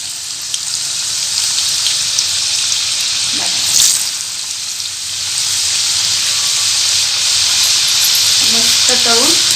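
Potato strips for french fries frying in hot oil, a loud, steady sizzle and hiss with brief bubbling bursts, close up and continuous with no voice.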